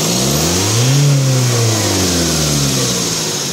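A Ford Transit van engine, just cleared of a clogged air filter fault, is revved hard at full throttle, rising to a loud roar near the microphone and then easing back down as the pedal is released.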